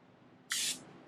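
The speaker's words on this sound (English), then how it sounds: "tube as well as the whole pan with my non-stick cooking spray" Non-stick cooking spray shoots into a pan as a single short, loud hiss about a quarter second long, then tails off to quiet room tone.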